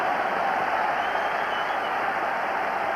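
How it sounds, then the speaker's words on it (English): Steady crowd roar and applause fills a football stadium at a Rangers FC versus Anorthosis Famagusta Champions League qualifier as a player warms up, a dense, even wash of cheering heard at a distance without pause. "So a great cheer goes up as Charlie Miller starts to warm up."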